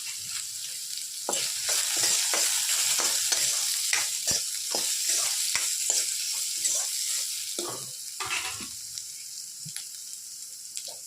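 Ginger, garlic and green chillies sizzle steadily in hot oil for a chicken kurma, with a constant bright crackle punctuated by frequent clicks and scrapes of stirring close by.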